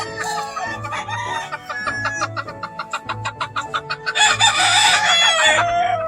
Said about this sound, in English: That's the rooster I've been breeding for the last few years